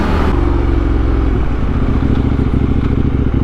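A KTM Duke 890R motorcycle engine while riding for wheelie practice, a loud steady mid-pitched drone close to the rider, with a pitch shift partway through as the revs change.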